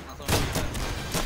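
Rapid bursts of gunfire in the video game Insurgency crackle close by, several sharp shots in quick succession with a busy, noisy background.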